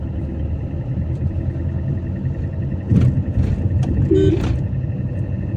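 Car engine accelerating gently during a driving lesson, a steady moderate rumble with slight rises in the middle and a brief horn-like tone near the end.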